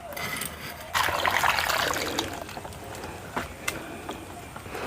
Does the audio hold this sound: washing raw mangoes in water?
yes